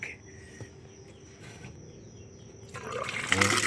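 A household tap feeding a bathroom and shower is opened, and strong water gushes loudly in the last second after a quiet stretch with faint insect chirping.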